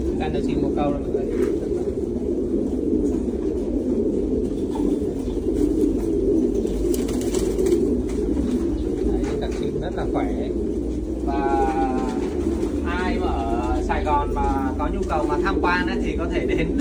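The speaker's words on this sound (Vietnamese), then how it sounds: "Đây là chim bồ câu rồi mọi người." Thai Titan meat pigeons coo in a multi-tier farm loft, soft rolling coos repeating over a constant low hum of the pen, with a person talking intermittently over them.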